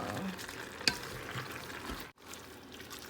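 Pancit noodles frying in a pan as vegetables are added, a steady close sizzle with stirring scrapes and one sharp clink, briefly cutting out near the end before resuming.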